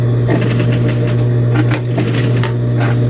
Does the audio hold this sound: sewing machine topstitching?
yes